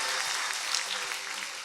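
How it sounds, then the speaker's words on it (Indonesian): A church congregation applauds, a dense, steady wash of clapping from many hands filling a large room, fairly loud and without pause. "kita kasih tepuk tangannya yang paling meriah"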